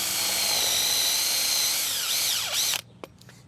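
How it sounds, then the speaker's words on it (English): Spade bit boring into wood with a power drill, a loud steady whine that dips in pitch near the end as the motor loads up, then cuts out abruptly, leaving quiet with a few faint knocks. "I've just drilled down about 12 millimeters"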